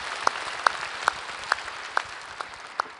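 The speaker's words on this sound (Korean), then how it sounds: "주님께 영광의 박수 올려드립니다." A church congregation claps in praise after a prayer, sounding as a sparse, slightly ragged pulse of about seven sharp, loud beats spaced roughly every half second, with no talk over it.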